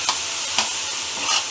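Chillies and coriander roast in a pan as a gravy base for a large dhaba-style matar paneer. A loud, continuous frying hiss carries three quick scraping stirs.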